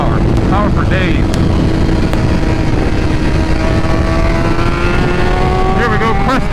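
A 2024 BMW M1000XR motorcycle accelerates hard on a track, its engine note climbing steadily in pitch through the gears, loud and close with strong wind rush, and a rider's voice partly audible beneath the roar.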